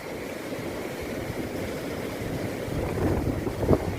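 Strong wind gusts and sea waves splash onto a wooden boardwalk on the Protaras coast in Cyprus, a constant close roar of wind noise with surf building louder toward the end.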